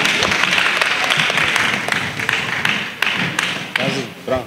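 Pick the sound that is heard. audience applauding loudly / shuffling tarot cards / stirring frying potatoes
audience applauding loudly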